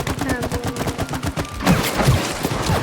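Rapid bursts of gunfire ring out during play of the co-op video game It Takes Two, first a quick repeating volley and then heavier booming impacts, with players talking over the action.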